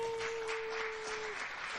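Light applause sound effect played on a show, with a thin, faint patter of clapping under a brief steady tone, short and low in level.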